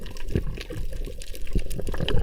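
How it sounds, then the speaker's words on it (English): Small bubbles escaping from a snorkel underwater, a close, continuous gurgling and burbling with soft irregular pops, heard alone without talking. "Little bubbles escaping my snorkel, my mask equalizing at depth."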